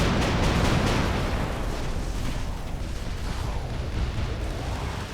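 A torpedo barrage slams into ships in the naval combat game Naval Warfare, a dense continuous rumble of overlapping explosions and booms, loud and sustained without pause.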